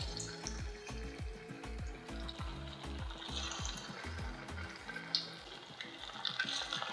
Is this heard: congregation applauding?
no